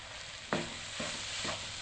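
Pork filling is stir-fried in a pan until dry, a soft continuous sizzle with three scraping stirs of the spatula spaced evenly, close and fairly quiet.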